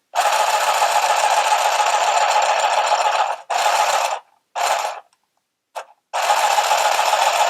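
A small handheld sewing machine buzzes steadily in a long run, then in short stop-start bursts before resuming a longer stretch.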